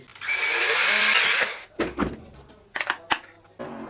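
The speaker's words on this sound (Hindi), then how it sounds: "यहाँ पे इन दोनों के सेंटर में मैं सुराख कर लेता हूँ" A power drill bores holes in PVC pipe for a fan motor and dimmer, giving a loud steady whir for about a second and a half, then a series of short scraping bursts and clicks as the bit is worked.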